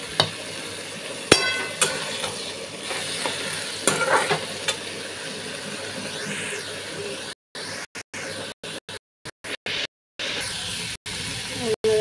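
Potatoes fry with a steady sizzle in a pan, scraped and stirred by a spatula with a few sharp clinks, up close. There are brief dropouts in the second half.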